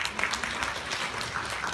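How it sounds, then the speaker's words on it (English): Audience applause at a Montessori conference in Tennessee, a steady wash of many hands clapping for under two seconds at moderate level, with no speech over it. "Give her a round of applause."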